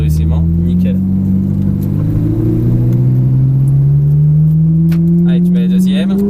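A Ferrari 458 Italia pulls away and accelerates on the Circuit du Luc, its engine droning loud and close with a low note rising steadily throughout, while someone speaks over it.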